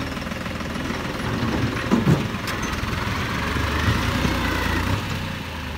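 A machine engine runs steadily and loud throughout, a low rumbling drone with a knocking, rattling texture, working on a plot of land outdoors, with no talking over it.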